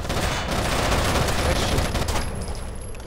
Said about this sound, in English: I hear gunshots from freaking the other side of the map